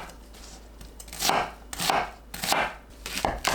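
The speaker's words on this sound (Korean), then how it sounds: "배, 양파를 믹서에 갈기 좋은 크기로 썰어주세요." A kitchen knife chops pear and onion on a cutting board, a few firm, evenly spaced cuts landing close and clear with no talking over them.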